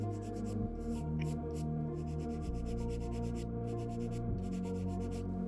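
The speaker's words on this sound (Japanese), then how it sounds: "ある程度削ったら洗い番手から800番くらいまでのヤスリで整えていきます。" Sandpaper rubs back and forth along a seam on a Gunpla HG plastic model in steady, rhythmic close strokes with brief pauses, over a constant low background hum.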